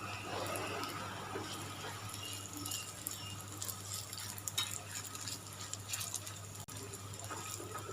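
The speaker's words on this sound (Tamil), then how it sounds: "ஒரு சைடு நல்லா ஃப்ரை ஆயிடுச்சு." Potato bread tikka shallow-frying in oil in a pan, with a steady, dense sizzle running throughout under a constant low hum, and occasional scrapes as the pieces are turned.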